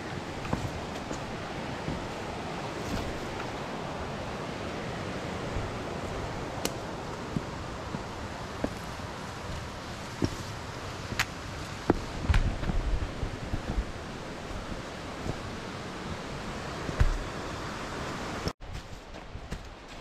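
Mountain streams run through a marshy stretch of an alpine valley, a broad steady rushing wash with scattered knocks and gusts, ending in a brief cut.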